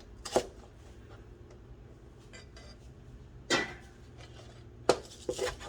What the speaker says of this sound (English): We're just gonna cook the onion, ginger, garlic all together